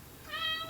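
A pet cat gives a single short meow indoors, fairly close and moderately loud, rising in over quiet room tone with no talking.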